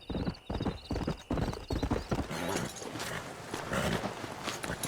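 Horse hooves clip-clop in the Red Dead Redemption video game, a quick, close series of hoof strikes giving way to denser trotting with a whinny and busy background noise.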